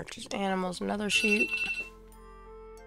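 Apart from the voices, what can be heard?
phone alarm ringing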